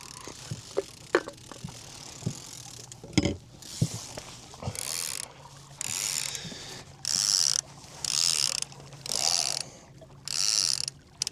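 A fishing trolling reel pays out line while fishing for walleye from a boat, its ratchet clicking in steady bursts that grow into a regular, loud on-off rhythm, with a few sharp mechanical clicks at the start.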